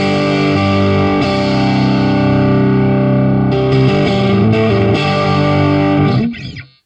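Electric guitar through the PreSonus Studio One Ampire amp simulator at default settings rings out loud, heavily distorted sustained chords that shift a few times, then cuts off sharply at the end.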